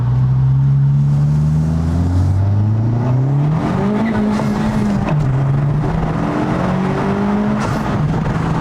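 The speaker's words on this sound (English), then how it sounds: "we'll do another first gear pull right here, windows down." A 2023 or later Honda Civic Type R with an aftermarket intake revs up hard in first gear with the windows down, pitch climbing steadily, then settles and rises again; loud and close, with road noise throughout.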